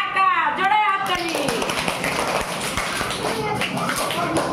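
A group of children claps loudly together in a classroom, a burst of rapid, sharp hand claps that follows an adult's voice and continues strongly to the end.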